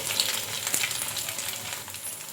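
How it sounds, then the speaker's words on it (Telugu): Food fries in a pan until golden, giving an even, close hiss of bubbling oil with faint crackles and no voices. "మంచి కలర్ వచ్చే వరకు అయితే ఫ్రై చేసుకున్నాను కదా"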